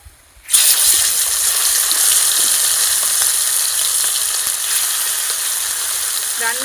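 Snakehead fish dropped into hot oil set off a sudden loud burst of sizzling, which then settles into a steady close crackle that fades slightly over several seconds.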